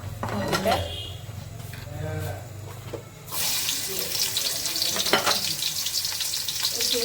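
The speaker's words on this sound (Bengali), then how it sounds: "ভেজে নিচ্ছি এভাবে করে লাল লাল করে রোস্টের জন্য আমি পেঁয়াজ বেরেস্তা করে নিলাম" Onions frying into crisp browned birista for a chicken roast, a loud steady crackling sizzle that rises sharply partway through, with someone talking over the quieter opening part.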